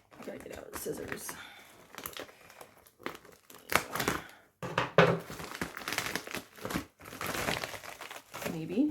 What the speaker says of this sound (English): I'm about to unbox, because I have 2 packages I gotta open.